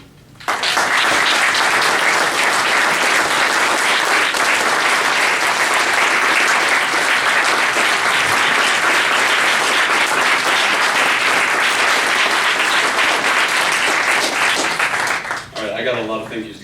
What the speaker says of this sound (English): keep the clapping short, please